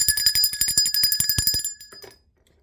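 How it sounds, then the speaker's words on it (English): A bell rings loudly with rapid repeated metallic strikes for nearly two seconds, then its tone fades out. "Let's ring the bell for that."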